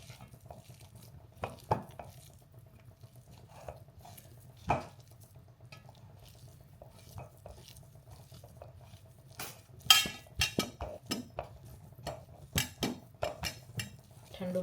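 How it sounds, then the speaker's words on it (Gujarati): Boiled potatoes being mixed in a bowl for aloo paratha, with soft stirring and mashing and a string of light clinks and taps of a utensil against the dish, quiet and close, with no talking. "તો આપણે બધી બટેટાને મિક્સ કરી દેવું."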